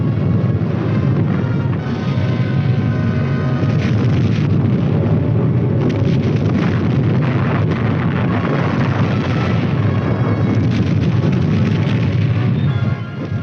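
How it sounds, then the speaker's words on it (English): A loud, unbroken artillery barrage from a 1950s US Army film: dense, overlapping booms and rumbling blasts merge into one continuous roar, with the boxy, band-limited sound of old film audio. "the supporting elements lay down a curtain of non-atomic fire"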